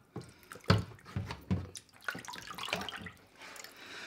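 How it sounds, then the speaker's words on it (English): Running water rinses a scuba regulator after a saltwater dive, splashing and gurgling over the hoses and mouthpiece at close range, with a few louder bursts and swishes as the parts are turned under the flow. "rinsing them like this is great for getting off salt water when you've just come back from a dive"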